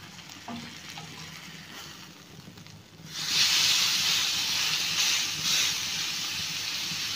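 Chicken grills in oil in a pan, starting with a low sizzle that swells into a loud, bright, steady hiss after the pieces are turned, close up with no talk.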